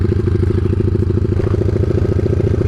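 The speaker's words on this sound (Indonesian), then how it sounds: "Kita mau manasin motor dulu." A motorcycle engine idles steadily as it warms up, a close, even, throbbing rumble with a light mechanical clatter and no other sound.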